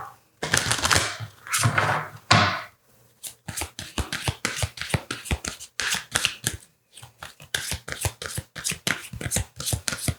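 Tarot cards are shuffled in rapid riffling bursts, close and crisp, first in longer sweeps and then as a dense series of quick snapping clicks.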